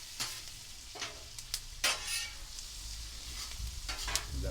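Onions and bacon fry in a pan with a soft, continuous sizzle, broken by a few scraping stirs of a utensil, fairly quiet and with no talking.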